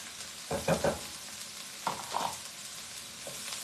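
Garlic frying in oil in a pan alongside other Indo-Chinese dishes, with a few clattering stirs and scrapes over a soft steady sizzle, close by and fairly quiet.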